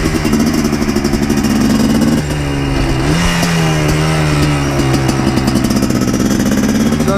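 Yamaha Blaster 200 ATV engine ridden around a small town, a loud steady buzzing idle with a brief rev and pitch dip around a downshift, then settling back into a rough, pulsing engine note.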